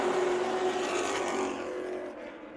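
Late model stock cars roar together at Colorado National Speedway under the lights, a dense, loud blend of racing engines sustained throughout, with a whining pitch and slight fade toward the end.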